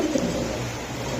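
A red Gorra pigeon gives a brief low, throaty coo up close, a single soft rolling call over faint room noise.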